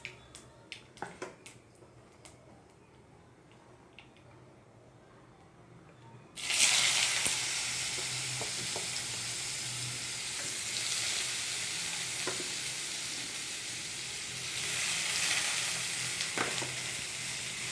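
Sliced papaya hits hot oil seasoned with black cumin in a pan, setting off a sudden loud hiss that settles into steady, close sizzling frying with occasional stirring scrapes, after faint clicks and rustles in the quiet before.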